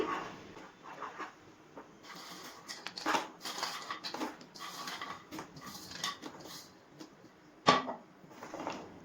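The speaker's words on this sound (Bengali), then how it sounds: "এবার মিষ্টির শিরা বা রসের সাথে গজাগুলো ভালো করে নাড়াচাড়া করে ভালো করে মিশিয়ে নিচ্ছি" Fried gaja pastries being stirred into sticky sugar syrup in a pan over a low flame, making soft, irregular scrapes and clinks of a utensil against metal, with one sharper knock near the end.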